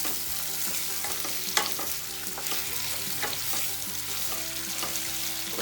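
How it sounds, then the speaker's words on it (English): Yellow, red and green capsicums sauté over a high flame for veg Hakka noodles, giving a continuous close sizzle with rhythmic clinks and scrapes of stirring and no voices. "then again saute it over high flame"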